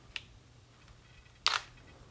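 A camera shutter is released once, giving a faint click followed by a louder, crisp mechanical snap a moment later in a quiet room.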